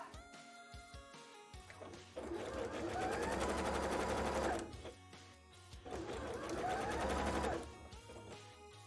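A sewing machine stitches petticoat trim in two loud, close bursts of rapid mechanical whirring, separated by a short pause, with quieter handling sounds before and between them.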